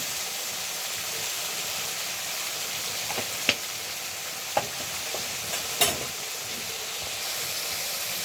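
Spices with turmeric, chili, ginger paste and salt fry in a pan for a dried loitta fish curry with ash gourd greens. A steady soft sizzle runs throughout, broken by a few sharp utensil clicks near the middle.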